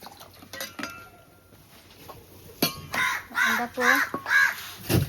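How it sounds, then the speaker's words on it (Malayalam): Several crows caw close by near an outdoor kitchen in Kerala where fish is being handled, giving a cluster of harsh repeated calls in the second half after quieter rustling and clinks. "കാക്കാളുണ്ടായിട്ട് ഇഷ്ടം പോലെ ഉണ്ട്"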